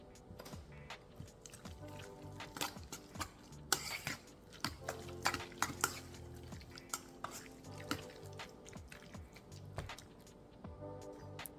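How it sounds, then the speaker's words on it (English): A spoon stirs a bowl of seasoning with salt and freshly ground black pepper, making quiet, irregular clicks, taps and soft scrapes that come and go over several seconds, with no voices. "And we're just going to give that a good stir and just put it aside"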